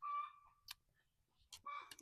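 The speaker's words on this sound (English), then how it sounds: "get away from these cackling chickens" Chickens cluck and cackle close by in short bursts, with quiet gaps between the calls.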